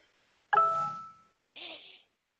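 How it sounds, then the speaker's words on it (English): A doorbell rings in a home during an online meeting, a bright ding that rings out and fades, then a softer second tone a second later, with a quiet background. "Now my doorbell's going off."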